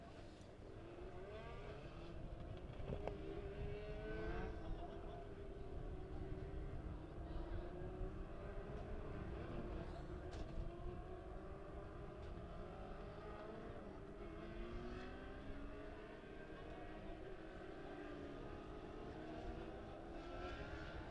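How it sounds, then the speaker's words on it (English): Legend race cars rolling out onto a dirt oval at Springfield Raceway during intermission, a steady drone of several engines carrying on throughout, with pitch sweeps as cars pass and a loud continuous bed of motor noise. "For intermission, rolling out onto the racetrack, it will be the Wheeler Metals Legend Cars."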